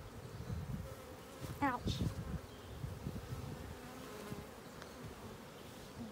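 Honey bees buzzing at an open hive during an April inspection, a dense, steady drone close by with a louder swell midway and a brief spoken exclamation.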